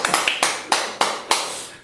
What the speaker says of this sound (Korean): 더 크게 박수.